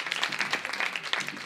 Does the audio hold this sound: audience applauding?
yes